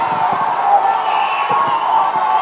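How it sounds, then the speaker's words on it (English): A quiz show studio audience cheers and applauds in a steady, loud roar of crowd noise with scattered claps and thumps throughout. "Listen to that crowd."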